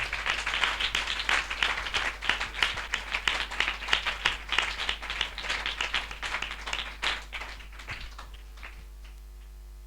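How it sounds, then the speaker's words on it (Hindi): An audience at a Christian spiritual assembly gives enthusiastic applause: dense, rapid clapping, fairly close, that tapers off toward the end of about ten seconds. "हम जोरदार तालियों से उनका स्वागत करें।"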